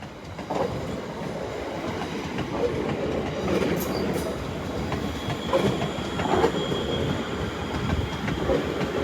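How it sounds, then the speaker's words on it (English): A Class 350 Desiro electric train pulls into London Euston station on a snowy evening, giving a steady rumble with faint rail clicks and a thin high whine throughout. "And pulling in here is another 350. 350-376."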